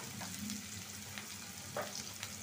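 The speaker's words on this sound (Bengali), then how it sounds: "তেলটা গরম হয়ে গেছে, দিলাম পেঁয়াজ, কাঁচামরিচ, পেঁয়াজ কুচি" Chopped onions and green chillies fry in hot oil, a soft steady sizzle with a few faint spatters and light stirring sounds.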